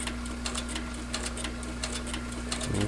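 A sewing machine stitches through a leather holster in quick rhythmic bursts of needle clicks over a steady motor hum, close and alone without talk.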